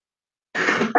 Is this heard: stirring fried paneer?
no